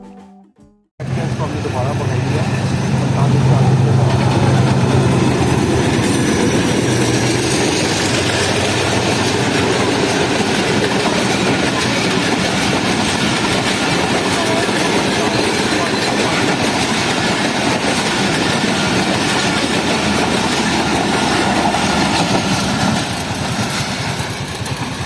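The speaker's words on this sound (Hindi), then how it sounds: "यहाँ पर भी वही 38 डॉन फरीद एक्सप्रेस आ रही थी" Baba Farid Express, the 38 Down, rumbles past on a branch line through a forest, a loud steady roar of engine and rolling wagons that holds for about twenty-three seconds, with faint voices underneath.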